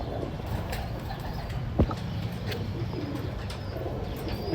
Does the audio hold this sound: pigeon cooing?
yes